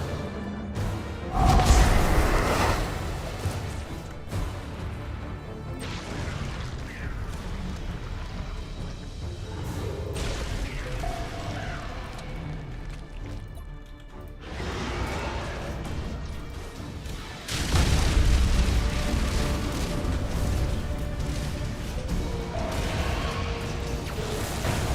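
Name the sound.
boarding torpedoes launched in Battlefleet Gothic: Armada 2 video game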